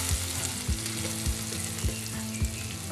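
A small cube of butter melting and sizzling in a hot pan, a steady close hiss punctuated by about five regular low thumps and no voices.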